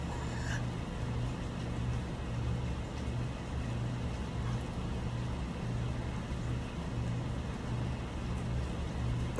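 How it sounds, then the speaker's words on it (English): Rain falls in a steady, even wash of noise over a low background hum, with no pauses, heard from indoors in a cozy room. "Oh, it's raining."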